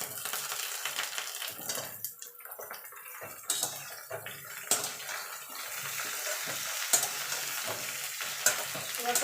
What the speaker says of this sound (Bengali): এবার পটল এই ঝিঙেটা আর কুমড়োটা দিয়ে আরেকটু নাড়াচাড়া করে নেব